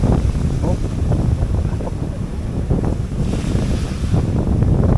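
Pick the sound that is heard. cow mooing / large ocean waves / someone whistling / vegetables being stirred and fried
large ocean waves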